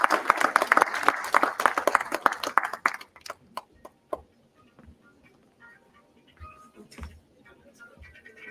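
Audience applause at an award presentation during a law faculty conference's valedictory session, a burst of crowd clapping that fades after about three seconds into scattered single claps and faint hall noise.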